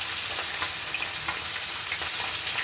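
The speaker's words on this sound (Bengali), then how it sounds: "লাল করে মাছগুলো ভেজে নিচ্ছি।" Fish pieces fry in hot oil with a loud, continuous sizzle and crackle that holds steady throughout, close by and with no voices.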